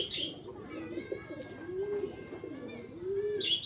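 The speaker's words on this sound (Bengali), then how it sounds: "তো এইবারে এই কবুতরটা একটু দেখেন।" A high flyer pigeon coos in soft, low rolling calls close by, continuing through the moment with faint chirps and background noise.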